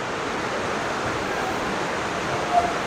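Dhuandhar waterfall at Bhedaghat, Jabalpur, pours as a steady, dense roar of rushing water, loud and unbroken throughout.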